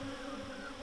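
Honey bees buzz steadily around a hive, a constant, droning hum of many insects with no talking over it.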